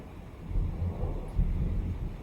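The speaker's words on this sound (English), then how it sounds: "we have a thunderstorm where I am recording" A distant summer thunderstorm rumbles low and continuously, with a soft rolling swell of thunder and faint rain hiss, quiet and far away.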